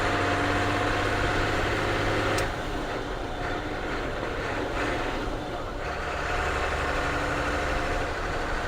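BJ engine idling just after startup, a steady rough rumble that holds throughout, loud and close, with a slight change in tone partway through.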